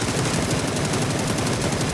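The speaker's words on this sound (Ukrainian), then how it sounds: "Знов стріляє по мені" Rapid automatic gunfire in an online shooter match, a dense, continuous burst of close, loud shots rattling for two seconds without any talking.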